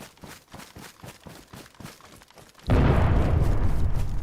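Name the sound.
explosion in the video game DayZ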